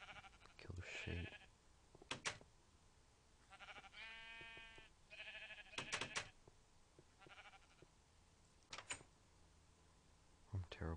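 Sheep bleat in a survival video game, two or three short wavering bleats standing out amid clicks, footsteps and other game sounds, with a voice talking at times.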